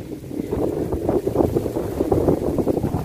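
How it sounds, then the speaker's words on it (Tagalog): Strong wind roars and buffets the microphone in steady gusts during a peanut harvest, with a low rumble of water and boat noise underneath. "lakas ng hangin buti lang medyo mahangin eh"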